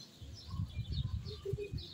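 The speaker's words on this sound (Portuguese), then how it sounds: "Os passarinhos já se aninhando." Small birds settle to roost at dusk among neighbourhood mango trees in Vilhena, Brazil, giving faint scattered chirps and tweets over a low outdoor hum.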